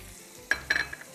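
Onion and chopped garlic sauté in a pan with a soft, close sizzle, and a few quick clinks and scrapes from a stirring utensil come in bursts.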